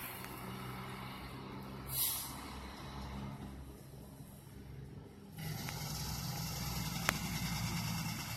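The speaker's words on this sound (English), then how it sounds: "There's our ladder truck leaving" A fire department ladder truck pulls away from a high-rise building, giving a sharp air-brake hiss near the start. A heavy engine rumble then builds and holds steady to the end, with one brief click late on.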